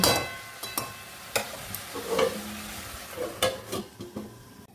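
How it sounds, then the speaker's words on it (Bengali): Cabbage cooking in a pan for a Bengali vegetarian dish, stirred with a utensil that scrapes and taps the metal in irregular bursts over a low background sizzle, close and alone. "নাড়তে নাড়তে এটাকে এবার একটু ঢাকা দিয়ে দিচ্ছি"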